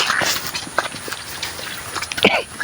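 Several horses clip-clop nearby on a road, their hooves landing in irregular taps amid outdoor ambience after rain, with no talk over them.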